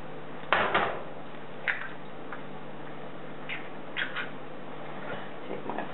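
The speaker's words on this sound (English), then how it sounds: "Take my fork and just stir them up a little bit." A fork stirs two cracked eggs in a pan, giving sparse, light metallic clicks and taps at uneven intervals over a quiet kitchen background. Nobody speaks.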